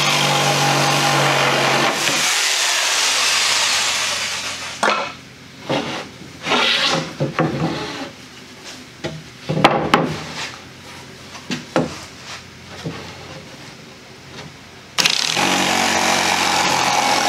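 A jigsaw cutting freehand into a wooden boat hull, loud steady buzzing at first, then stuttering, uneven bursts and knocks as the cut starts and stops, before the saw runs steadily again near the end.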